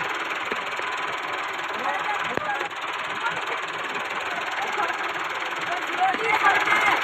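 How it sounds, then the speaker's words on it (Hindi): A tractor engine runs steadily while being driven through a Punjab village, a constant mid-pitched rumble that swells slightly near the end, with people talking over it. "हम दोनों ने ट्रैक्टर चलाया"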